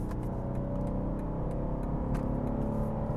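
A BMW G87 M2 with a six-speed manual and a RaceChip GTS Black tune, pulling hard in third gear in race mode, its engine a loud, steady, rising drone heard from inside the car.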